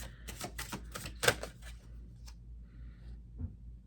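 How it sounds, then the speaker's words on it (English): Quick flicking and riffling of cards, a short burst of crisp taps followed by a few lighter clicks in a quiet room. "so I'm going to shuffle that again"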